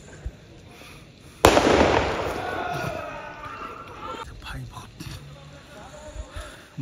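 Firecrackers bursting at a night forest camp, with a loud sharp crack followed by a crackling, decaying burst; voices and shouting are heard around it.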